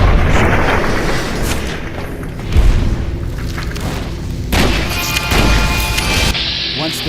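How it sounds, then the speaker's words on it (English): A dynamite explosion in the video game Fallout New Vegas, heard from inside a cave, with a broad booming rumble that rises in a heavy burst and rolls on with crashing debris and later thuds for several seconds. "From here I could safely witness the explosion."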